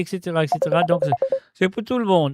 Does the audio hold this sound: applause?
no